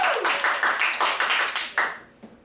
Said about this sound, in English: You have to clap for the one you want.